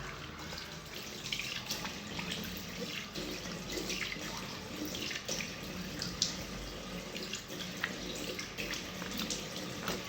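Tap water running steadily into a sink while someone washes their face, with soft splashing and dripping over a continuous, fairly quiet flow.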